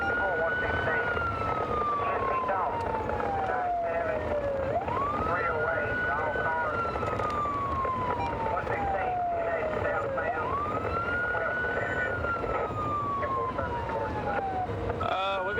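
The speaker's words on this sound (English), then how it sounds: "Blue lights and siren are activated." A police car siren wails in long, rising-and-falling sweeps during a southbound highway chase, loud and continuous over steady road and engine noise, with no speech in the clip.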